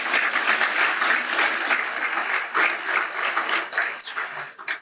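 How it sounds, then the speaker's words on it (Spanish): A church congregation breaks into loud, sustained applause, with dense clapping that swells and dips in waves for several seconds, a few sharper claps standing out near the end. "Los que están de acuerdo con eso le dan un fuerte aplauso al Señor."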